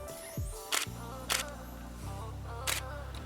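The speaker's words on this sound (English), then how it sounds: "Shutter mechanism is very quiet and sounds premium." A Nikon D810 DSLR's quiet shutter firing three separate times, each a short crisp click-clack heard up close over soft background music.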